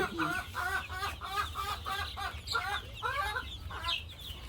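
Caged laying hens on a poultry farm cluck in a rapid, rhythmic series of short calls, close and fairly loud over a low background hum.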